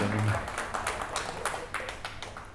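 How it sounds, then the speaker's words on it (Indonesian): Audience applause at a talk on Nietzsche and 21st-century challenges, a crowd clapping briefly after a speaker is introduced, with scattered claps fading out over a few seconds. "tepuk tangan buat Pak Juanda."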